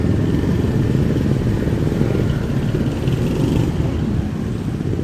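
Scooters in morning commute traffic in Dumaguete: a dense, steady rumble of many small engines passing close by, loud and continuous without a break.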